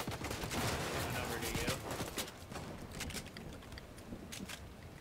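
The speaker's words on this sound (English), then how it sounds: "Ooh, they're sniping." Sniper fire and other gunshots in a video game, scattered sharp cracks over a busy game background, with a voice talking over them.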